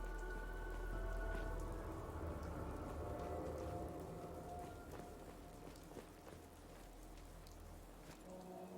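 Steady rainfall in the Fallout 4 game world along a foggy coastal area, a continuous hiss of drops on surfaces with faint patters, fairly quiet and even throughout with no talking.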